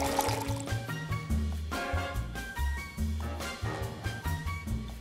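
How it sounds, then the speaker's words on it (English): A stiff glass of scotch poured, with liquid glugging and trickling into the glass in uneven bursts, close and clear over soft background music. "pour yourself a stiff glass of scotch"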